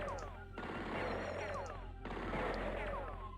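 Rapid gunfire in the strategy game Spellcross, with dense bursts of shots rolling continuously over a steady low drone at moderate loudness, with brief pauses between volleys.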